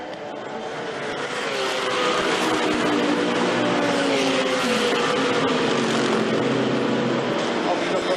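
Race cars battle in a British GT round at Zandvoort, an Aston Martin chasing an AF Corse car, their engines a loud, sustained roar that swells after the first second and holds steady, with a commentator talking over it.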